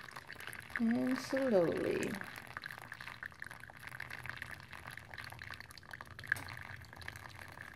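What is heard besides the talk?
water being poured in slowly and carefully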